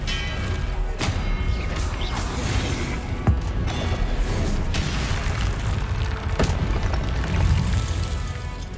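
Confringo fire spells blast during Hogwarts Legacy combat, producing repeated booming thuds and crashes that stand out from a dense, continuous bed of game noise.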